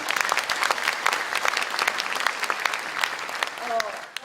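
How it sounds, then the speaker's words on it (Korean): Loud, dense applause fills a hall at a political party launch ceremony, rapid crowd clapping that swells and continues for several seconds, with a brief voice near the end. "통합을 위해 노력해온 박형준 위원장을 모두 큰 박수로 맞이하겠습니다."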